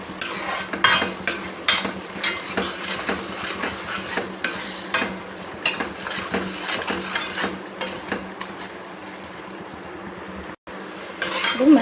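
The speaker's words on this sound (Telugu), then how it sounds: "ఇలా కలుపుతూ ఉడికించుకుంటున్నా టమాటా" A spoon stirs tomatoes cooking in a pan for a chutney, repeated metallic scrapes and clinks in an uneven rhythm over a soft sizzle, then a brief pause and renewed scraping.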